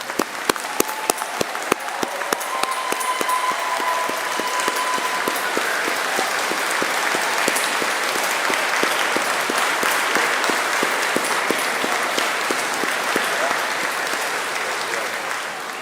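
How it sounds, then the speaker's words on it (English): A graduation audience applauds inside a cathedral, many hands clapping in a sustained, reverberant roar with crisp individual claps standing out, holding steady throughout and easing slightly at the end. "Can we give a round of applause to our family and friends?"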